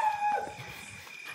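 Dogs howl and yelp at night near an overnight stay in the elephant forest of Attappadi, with one drawn-out howl at the start over a faint background of other dog noises.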